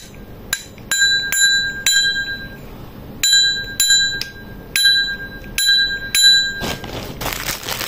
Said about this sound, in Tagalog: Tapos ito yung bell para pag may notify natin yung mga dumadaan.